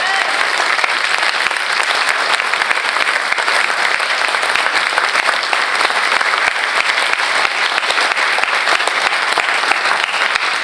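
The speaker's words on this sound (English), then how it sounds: "I would like a round of applause" An audience at an Aliso Canyon town hall applauds Dr. Gonzalez, many hands clapping loudly and steadily for a long stretch with no break.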